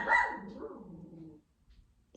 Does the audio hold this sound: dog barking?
yes